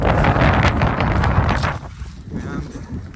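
Gusty wind buffeting a microphone during a rainy river crossing, loud roaring rumble that eases and swells, close and continuous.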